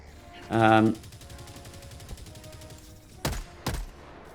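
Gunfire in Helldivers 2, a rapid burst of automatic fire followed by two heavy booming shots, loud and close, while someone talks over the game sounds.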